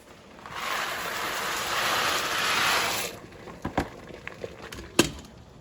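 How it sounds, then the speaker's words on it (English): About a pound of dry elbow macaroni pours into a pot of boiling water with a rushing hiss lasting a few seconds, followed by scattered clacks and knocks from the pot. "I'm going to go ahead and just go over and add it to this pot of boiling water."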